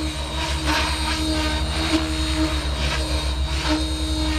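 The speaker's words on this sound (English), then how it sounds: "This is actual flying the heli." An RC helicopter with a Spektrum 6250HX flybarless system flies steadily, giving a constant loud whine and rotor drone with a low throbbing hum underneath and no voices.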